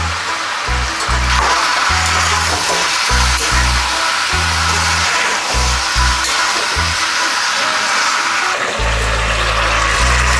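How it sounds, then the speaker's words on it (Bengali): Fried onions and potatoes go into chicken in a hot pan for a Bengali desi chicken curry, giving a loud, continuous hiss of sizzling oil with low rhythmic thumps running underneath. "এখন ভাজা করে রাখা পেঁয়াজ আলু দিয়ে দিচ্ছি চিকেনে।"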